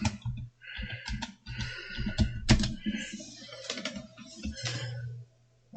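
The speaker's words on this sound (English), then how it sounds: "Let's type in Micro Center," Someone types a store name into a search field on a computer keyboard, with quick irregular clicks in clusters over a low steady hum, close and fairly crisp.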